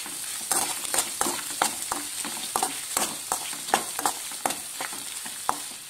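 Egg sizzles in a pan while being stirred and tossed for egg rice, a steady frying hiss broken by a regular series of sharp spatula scrapes and knocks, close and alone.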